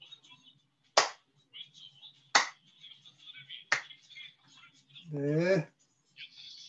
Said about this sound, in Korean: 박수 소리가 나게.